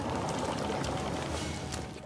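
Seawater gushes into a damaged ship's hull in the pirate video game Sea of Thieves, a steady, loud, broadband rushing pour that holds constant for about two seconds without pause.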